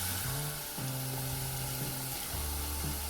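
Chopped onions, ginger and garlic sizzle in a hot pan for jackfruit biryani, a steady close frying hiss with a low crackle and faint stirring, with no talk.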